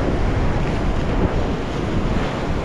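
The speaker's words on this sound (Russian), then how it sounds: "Смотрите, какие там шикарные волны." Ocean waves crash on a Sri Lankan shore in a continuous loud, broadband roar of churning surf, close and steady with no pauses.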